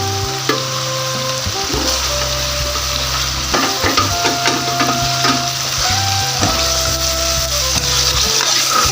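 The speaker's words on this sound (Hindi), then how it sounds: "और हमने 1 चमची घी डाली है और इसको हम गर्म करेंगे और इसको हम मिक्स करेंगे" Ghee heats in a pan while being stirred for a palak qeema, producing a steady close sizzle with repeated scraping stirs and no talking.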